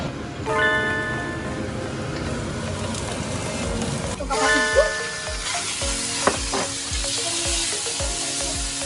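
Udon noodles stir-fried in a hot pan, a bright continuous sizzle with repeated scraping and tossing strokes and a few sharp metallic clinks, close and loud.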